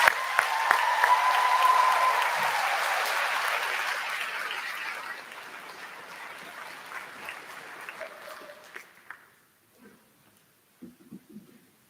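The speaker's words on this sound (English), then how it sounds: "Let's have a round of applause for this year's graduates" Sustained applause from a graduation audience at the Monroe County Middle College 2022 ceremony, loud at first and gradually thinning over several seconds before dying away to scattered claps and near silence.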